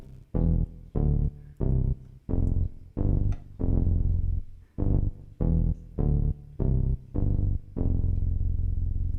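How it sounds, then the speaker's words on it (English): A Roli Seaboard MPE synthesizer plays a pattern of short, punchy, gritty notes in a steady rhythm and ends on one long held tone, heard close and alone. "So this is my little Roli Seaboard."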